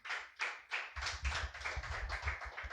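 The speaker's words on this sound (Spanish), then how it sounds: "Dele fuerte aplauso al Señor" A church congregation claps for the Lord in rhythmic, fairly quiet bursts, the pace picking up partway through, with no voices.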